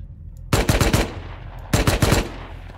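Gunfire in the video game Rust: two quick bursts of automatic fire about a second apart, each several rapid loud shots with a short ringing tail, no voices.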